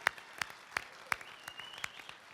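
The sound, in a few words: audience standing ovation applause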